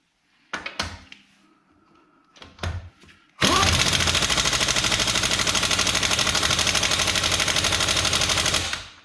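Impact wrench fitted with a torque stick on a car wheel lug nut: a few short clicks and trigger bursts, then a long loud continuous hammering rattle lasting about five seconds before it cuts off.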